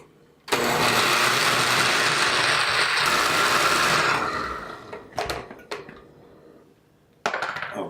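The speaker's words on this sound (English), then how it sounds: "we're going to puree this all together" Leeks and sweet potato being pureed in a kitchen blender, a loud steady whirring grind for about three and a half seconds that fades out, followed by a few short bursts and a final brief restart.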